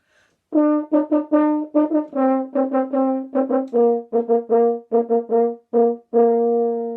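A solo French horn plays a rhythmic pattern of short and held notes in 4/4 time at a steady pulse, clear and close, with no talking.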